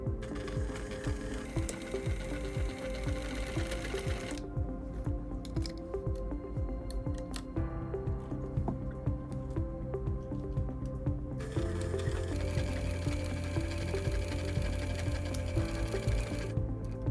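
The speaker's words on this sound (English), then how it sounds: "So we're going to stitch right on the edge, back and forth, to secure the elastic in place." A sewing machine stitching back and forth along the edge of an elastic waistband on a child's skirt made from a man's shirt, rapid rhythmic needle clatter in bursts with brief pauses, close and steady.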